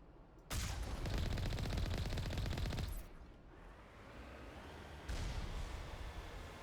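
Gunfire in the video game Mass Effect Legendary Edition: a loud, dense burst of rapid shots runs for a couple of seconds, a rumbling lull follows, and then a second burst starts, all over heavy battle noise.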